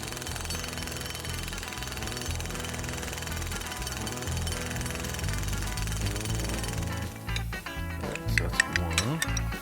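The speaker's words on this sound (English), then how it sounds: "get an impact wrench on there and make it count" An impact wrench working on the suspension of a 1937 Lincoln Zephyr, a loud, continuous rapid hammering rattle that runs for several seconds up close, then breaks into sharper clanks near the end.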